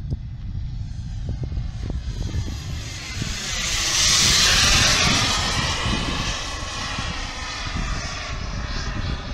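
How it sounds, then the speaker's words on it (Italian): A real jet aircraft passes overhead at a model jet flying field, its loud roar swelling and sweeping by before fading, with no talk. "C'è un vero jet che sta volando sopra."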